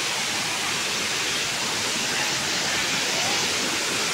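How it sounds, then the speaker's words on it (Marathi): Large waterfall roaring as a dense, steady wash of rushing water, loud and unbroken from start to finish with no other sounds standing out. "मोठा धबधबा आहे की रे पण."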